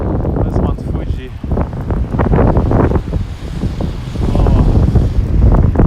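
Strong wind in Tokyo batters the microphone with loud, continuous rumbling gusts that swell and ease, and a brief voice breaks through the buffeting.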